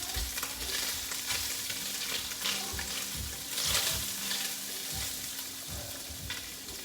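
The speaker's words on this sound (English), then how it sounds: "what I'm trying to do is get the bottom of my pan brown" Chicken pieces browning in a hot pan for Cajun chicken pasta, giving a steady, close crackling sizzle with occasional stirring scrapes throughout, no voices.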